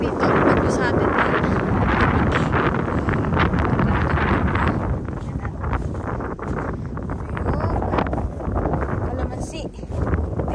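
Strong wind buffets the microphone in a continuous loud roar with gusty rustling, outdoors during stormy, cold weather; a person's voice comes through at times.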